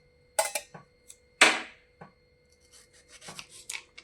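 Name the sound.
knife chopping tomato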